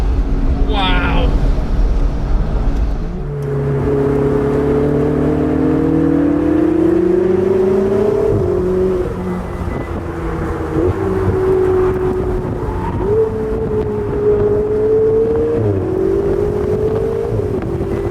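McLaren supercar accelerating hard on a fast road, a loud engine note rising through the gears with shifts and sustained pulls, heard from inside the car.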